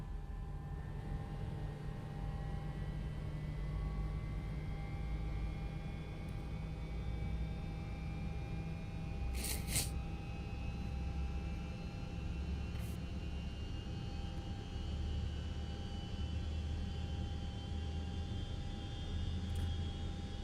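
Simulated jet engine spooling up on the number 1 engine of an L1011 TriStar airliner in a flight simulator game, a steady broadband whine and rumble with rising tones, continuous and fairly quiet throughout.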